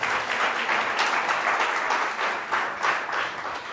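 A church congregation applauds, a dense, continuous wash of many hands clapping that holds steady throughout.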